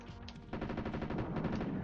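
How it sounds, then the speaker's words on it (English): A submachine gun fires in a Jurassic Park video game, a fast, steady rattle of shots that starts abruptly and keeps going at a fairly even pace. "I'm just going to look upwards and shoot my SMG."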